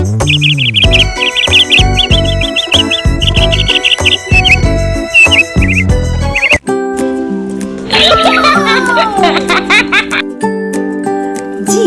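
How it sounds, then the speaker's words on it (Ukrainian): Parrots at the Almere Jungle zoo give loud, repeated chirps and squawks, mixed with children's voices and excited chatter close by. "Це папуги. Привіт-привіт, папуги!"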